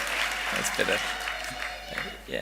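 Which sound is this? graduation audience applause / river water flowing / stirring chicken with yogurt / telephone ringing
graduation audience applause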